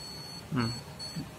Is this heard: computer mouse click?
no